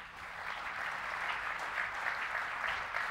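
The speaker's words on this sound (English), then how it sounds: "please accept this applause and take your seat in the chair with your medal" An audience at a humanitarian awards ceremony gives a medal recipient steady, sustained applause. The clapping is dense and even throughout, with no voices over it.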